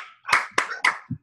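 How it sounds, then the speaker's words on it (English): Children at a church service clapping, three quick sparse claps in a row followed by a softer fourth, close and fairly faint with no talking. "Let's clap"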